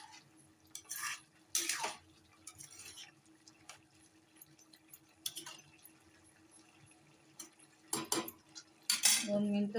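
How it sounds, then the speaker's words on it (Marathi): A spoon scrapes and clinks against a pot of Malvani-style green bean and potato curry in several short, sharp bursts, separated by quiet gaps, with no talking. "एकदा ढवळून घेते."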